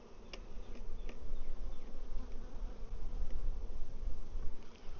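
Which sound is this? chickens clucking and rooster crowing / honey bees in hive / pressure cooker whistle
honey bees in hive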